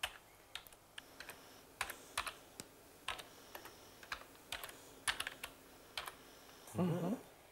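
Fingers tap a computer keyboard while a letter is being written, producing quiet, irregular bursts of keystrokes in a calm room, with a brief louder rustle near the end.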